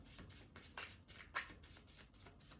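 Playing cards are shuffled by hand in quick, faint, close riffles and soft papery flutters, with a couple of sharper snaps and no voices.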